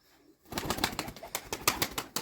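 White pigeons coo and flutter close by in a village coop near Mardin, soft throaty calls mixed with rustling and flapping wings in a steady, busy stretch.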